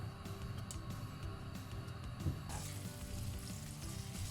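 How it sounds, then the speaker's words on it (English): Chorizo fries in about two tablespoons of olive oil in a pan, a continuous crackling sizzle that grows brighter and denser partway through, close up with no voices. "let's pan fry the chorizo a little bit before we add in the onion and the garlic"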